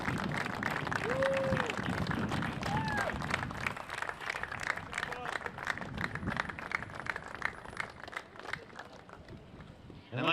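Applause for the Tufts University Jumbos student athletes, coaches and staff at the NCAA Division III men's tennis semifinals, a steady wash of clapping from a large crowd that slowly thins toward the end, with faint voices underneath.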